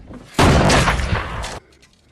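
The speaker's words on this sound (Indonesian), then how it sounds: "Mick langsung mengeluarkan senjatanya dan langsung membunuh Katarina." Loud gunfire erupts in a scene from the horror film Wolf Creek 2, a dense burst of close shots and booms lasting just over a second before cutting to quiet.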